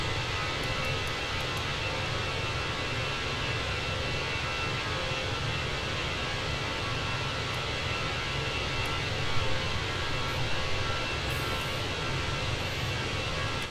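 Steady, loud jet engine roar from an Airbus A321 climbing out of Atlanta after takeoff in Microsoft Flight Simulator 2020, a constant broadband rush with no pauses and no speech.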